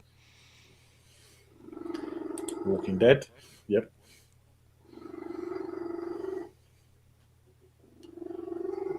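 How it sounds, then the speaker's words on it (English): A cat lying close behind a person purrs loudly in long rumbling bursts with pauses between them. A person speaks briefly over the purring. "a cat laying behind me, purring his head off"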